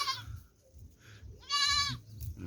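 Goats on a homestead in Spain bleat nearby, a short nasal call at the start and a louder wavering bleat near the end over faint outdoor background.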